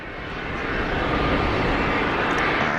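An Iberia airliner taxis at Geneva Airport, its engines giving a steady, broad jet roar that holds at a constant moderate level throughout, with no talk over it.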